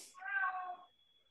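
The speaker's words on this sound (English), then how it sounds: "I thought I heard a cat." A single cat meows once, a clear, fairly close drawn-out call heard on its own in a quiet room.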